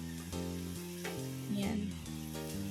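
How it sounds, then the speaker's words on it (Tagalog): Onion and garlic sauté together in a hot pan for pork menudo, giving a steady sizzle under a strong, sustained musical tone, with brief stirring noises. "magigisa na tayo ng sibuyas bawang"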